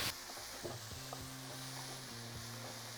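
Vegan sausages with scallions and mushrooms frying in a pan, giving a steady soft sizzle with occasional stirring clicks and scrapes throughout, no voices.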